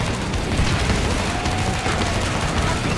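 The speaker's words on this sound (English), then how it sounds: "just throw some bullets at him" Gunfire from the video game Killing Floor 2 comes as loud, continuous rapid shots and booming blasts that pile into a dense fusillade.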